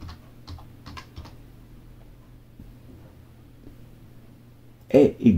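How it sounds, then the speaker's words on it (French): Computer keyboard typing of a town name into a website search field, a few light clicking bursts early on, then a louder cluster of keystrokes at the end over a low steady hum. "si je tape Cahors,"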